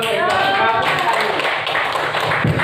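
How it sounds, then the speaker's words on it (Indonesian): Teachers clapping together in a school training session, a continuous wash of hand claps at steady loudness with some voices mixed in. "Ya, tepuk tangan buat Bu."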